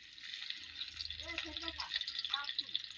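Onion dropped into hot oil in a pan, frying with a broad steady sizzle, while someone talks briefly over it in the middle.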